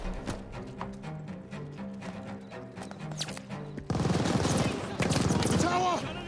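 Machine gun fire in the Call of Duty Vanguard campaign on PS5, a dense loud burst of automatic shots that swells in the last few seconds, with game voices and music underneath.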